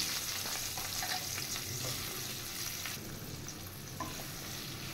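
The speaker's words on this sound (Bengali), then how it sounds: "বেঁচে যাওয়া যে তেলটা ছিল ওই তেলে আমি কুচিয়ে রাখা পেঁয়াজ দিয়ে দেব" Chopped onion fries in oil left over from frying potatoes, giving a constant, quiet crackling sizzle with a few faint stirring clicks and no talking.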